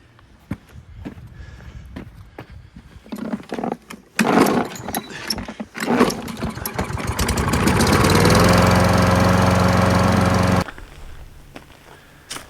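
A small engine primed with starter fluid and carb cleaner is being started: clicks and rattling pulls lead to a loud, steady run of about two and a half seconds before it cuts out.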